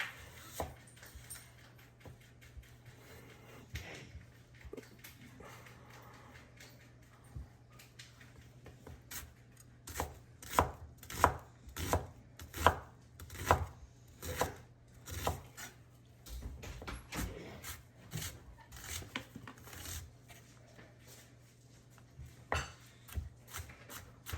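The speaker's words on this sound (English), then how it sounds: "keep a close eye on his cutting techniques because he's a professional" A knife chops food on a cutting board in a quiet home kitchen, first a few scattered soft taps, then a quick run of sharper, evenly spaced knocks over a low steady hum.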